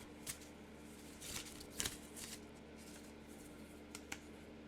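Tarot cards shuffled by hand in a few soft, brief riffling bursts over a quiet room background, fairly faint with gaps between shuffles.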